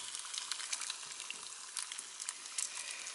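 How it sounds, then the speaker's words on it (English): Homemade spring rolls fry in a pan over three-quarter heat, giving a steady, dense crackling sizzle with small pops scattered throughout, close and even in level. "I've got them on only a 3/4 heat, and they're crisping."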